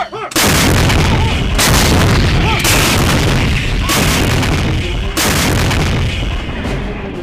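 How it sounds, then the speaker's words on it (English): Heavy artillery bombardment of a large base in a war movie: loud, continuous rumbling barrage with repeated booming impacts landing every couple of seconds across the whole stretch. "we've had it under constant bombardment for the last 7 hours"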